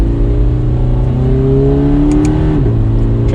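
A 2020 Toyota 86 Hakone Edition in sport mode accelerates from inside the cabin, engine note climbing steadily in pitch before a brief dip at a shift, loud and continuous.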